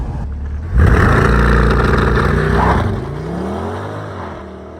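A C8 Corvette launches hard from close by with a loud surging roar. The engine note climbs steadily in pitch, dips at a gear change and then keeps pulling with a continuous throaty drone. No voices are heard.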